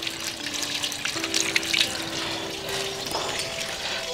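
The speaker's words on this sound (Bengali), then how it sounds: "তেজপাতাগুলো ভালো করে ধুয়ে নিতে হয়।" Bay leaves washed by hand under running tap water, a continuous close splashing trickle with a faint steady hum beneath and small clinks.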